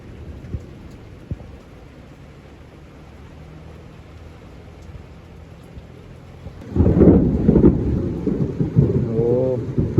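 Steady rain with rumbling thunder, starting as a soft wash of rainfall and swelling after several seconds into a louder, denser downpour with deep rolls of thunder, no voices.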